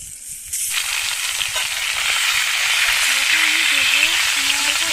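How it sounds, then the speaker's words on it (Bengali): Pangas fish fries in hot oil in a wok, a loud, steady sizzle that bursts in abruptly after a brief quiet start and keeps hissing without pause. "কিছুক্ষণ পরে আমি ভেজে নিচ্ছি, কড়াই ভেজে তেল গরম করে নিয়েছি।"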